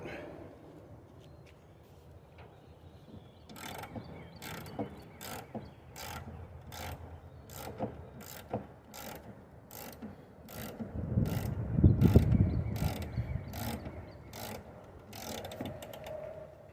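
Cab of a John Deere 35D mini excavator being tilted up, with a rhythmic series of regular clicks like a ratchet or jack, each spaced about half a second apart, and a low mechanical groan building midway.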